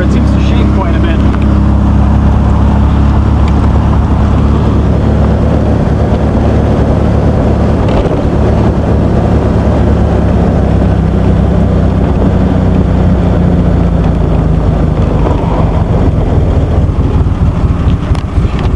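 A 1971 VW Beetle engine runs roughly and unevenly at high idle, loud and close, with wind buffeting across the microphone and someone talking over it at times.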